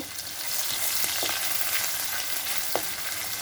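Continuous close sizzle of chopped onion frying in hot oil with cumin over a raised flame, a few light scrapes of stirring cutting through the steady hiss.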